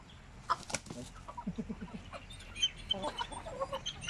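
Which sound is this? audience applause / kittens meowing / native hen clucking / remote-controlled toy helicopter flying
native hen clucking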